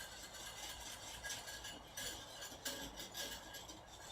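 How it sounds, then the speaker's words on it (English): A whisk stirs cream in a straight-edged pot, scraping the sides and corners with a continuous rough rasping swish that swells and fades in uneven strokes, close and fairly quiet. "I use a whisk the whole time and I'm scraping the edges, like the corners"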